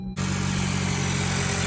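A Honda Civic Si engine with an aftermarket PRL intake hose starts up and settles into a steady, close idle, a low even hum after a brief silent moment.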